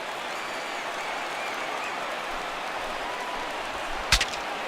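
A sold-out baseball stadium crowd of around 40,000 in Minnesota, in the video game MLB The Show 16, roars in a dense, steady wash of cheering with one sharp crack near the end.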